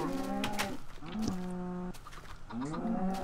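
Several cows moo in a video game, drawn-out harmonic lowing calls one after another, close and fairly loud with no talk over them.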